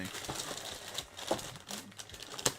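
Plastic food packaging crinkles and rustles in irregular bursts, fairly close and moderately quiet, with scattered sharper crackles and no talking.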